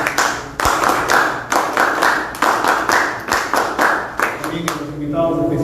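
A small audience claps firmly for party commission members, a series of distinct bursts of hand clapping that rise and fade in repeated waves, close and loud, ending with a faint tonal sound.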